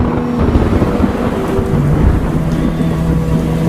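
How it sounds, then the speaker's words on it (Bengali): A thunderstorm rumbles in deep, rolling peals over a constant hiss of heavy rain, loud and close throughout, with no voices. "আকাশ কালো করে মেঘ আর প্রকৃতির বুক উথাল পাথাল করে ধেয়ে এলো প্রচণ্ড ঝড়"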